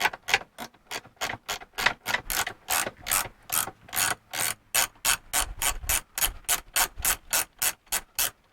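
A ratchet wrench clicks steadily as a 1/2-inch bolt with a nylock nut is backed out of a 1961 Triumph TR4 handbrake, with rapid rhythmic pawl clicks in short bursts, close and clear.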